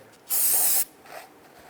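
One short burst of aerosol spray hisses loudly for about half a second onto a Jeep Grand Cherokee 4.7L V8 exhaust manifold gasket surface, then a faint quieter hiss trails off.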